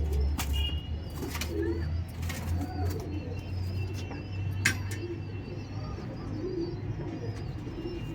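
Pigeons in a loft coo steadily in a low, throaty chorus, with occasional bursts of wing flapping and faint chirps over a constant background hum.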